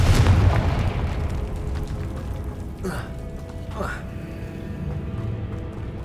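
A Confringo blasting spell bursts in the game Hogwarts Legacy, heavy booming explosions rumbling low and loud, followed by two quicker swooshing spell bursts, all layered under a dense game soundscape.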